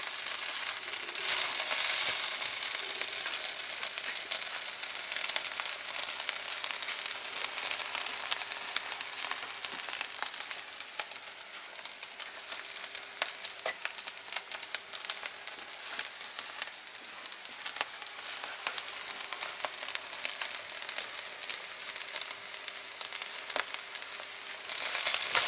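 Rice frying with vegetables and spices in a pan gives a steady, dense sizzle and crackle that runs without a break, close and fairly loud.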